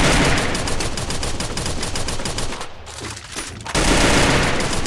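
Rapid bursts of automatic gunfire in the video game Free Fire rattle loudly and continuously, pausing briefly in the middle before another intense volley resumes.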